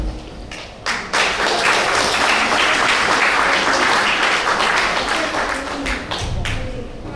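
Audience applause at a Bulgarian community cultural centre's 100th-anniversary gala concert: dense, steady clapping from a large crowd fills the hall for about seven seconds without pause.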